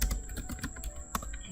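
Rapid, steady keystrokes on a computer keyboard while a class is written in JavaScript for Node.js, close and fairly loud, with several sharper clacks near the end and no talking.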